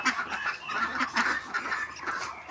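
Chinese farm ducks calling in a flock, steady overlapping honking quacks filling the whole stretch at close range, with no talk over them.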